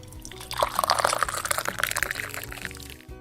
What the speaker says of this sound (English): Next you pour enough water to cover them up.